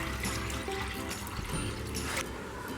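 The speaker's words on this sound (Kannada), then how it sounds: "ಅದಕ್ಕೆ ನೀರು ಹಾಕ್ತೀನಿ" Water poured onto soaked green gram while cooking village-style bassaru, a steady close pouring and trickling that runs for the whole moment with no talk.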